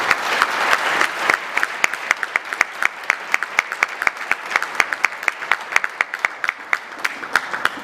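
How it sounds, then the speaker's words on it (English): An audience at an Imo State gubernatorial debate claps for the candidates, a dense, sustained round of applause with sharp individual claps standing out, steady throughout with no talking. "can we clap for the Excellencies, please?"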